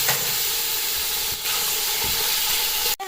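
Chicken strips sizzle loudly in a hot pan over browned garlic, a constant close hiss that runs steadily throughout. A brief clatter breaks in near the end.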